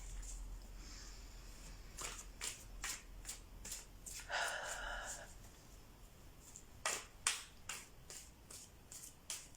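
A deck of tarot cards is shuffled by hand in a quiet room. It gives a run of soft riffling bursts and sharp flicks that grow more frequent toward the end, with low talk faintly present.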